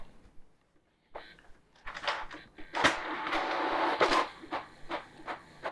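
A Canon TS8320 inkjet printer prints a color test photo, giving a quiet run of irregular mechanical clicks, knocks and whirring passes of the print head and paper feed, heard alone in a room.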